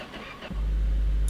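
A car engine in the My Garage video game cranks briefly and catches, settling into a loud, steady close idle rumble with no talk.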